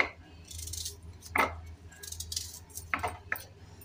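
A knife cuts an onion for chokha in a few separate metallic clinks and taps against a low steady hum, sparse and close, with no talking.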